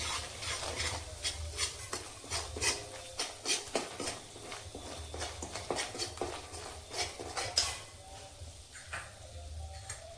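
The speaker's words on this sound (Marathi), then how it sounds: "आता हे सर्व चांगलं परतवून घेते।" Chicken with homemade garam masala, goda masala and mutton masala stirred in a pan, a spoon scraping and clattering in steady strokes over a soft sizzle, close and without talk.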